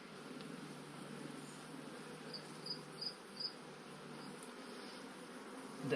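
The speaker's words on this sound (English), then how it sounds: "Bees." Honeybees in an open hive box hum in a faint, steady drone, with a few brief higher buzzes passing close by.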